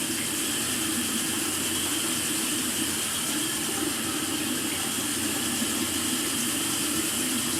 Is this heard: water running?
yes